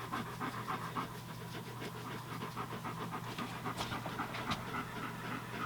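Dogs pant steadily and rhythmically close by, a quick continuous huffing over a low steady hum, in a cluttered off-grid cabin during winter preparation.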